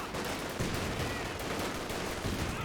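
Dense, continuous automatic fire from an MG42 machine gun in Company of Heroes 2, a steady unbroken rattle with battle noise filling the whole stretch, no voices.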